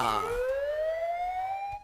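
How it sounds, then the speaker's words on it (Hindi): A toy robot's intruder alarm lets out one loud electronic siren sweep that climbs steadily in pitch for nearly two seconds before cutting off abruptly. "अचानक हुई तेज आवाज और चमकती लाइट से मिस्सी घबरा गई"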